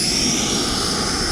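A small RC jet taking off at half throttle gives off a steady, loud, high-pitched whine and a broad rushing roar, heard close with no voices over it.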